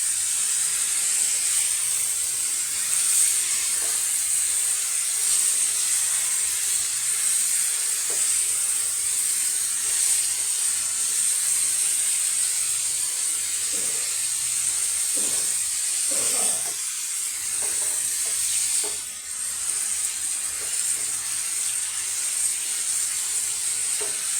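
Food crisping in a pan, a continuous hissing sizzle held steady throughout with faint scattered clicks and a slight dip near the end, no talking.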